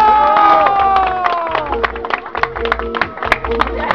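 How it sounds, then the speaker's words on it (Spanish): Cheering and shouting from a crowd of children at a Children's Day event, with scattered claps and excited voices, fairly close and lively, fading into chatter. "¡Un aplauso para todos los niños!"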